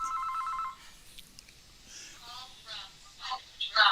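A phone rings in a bright, repeated electronic trill for under a second, then people talk, with brief higher chirps and tones mixed into the voices afterward.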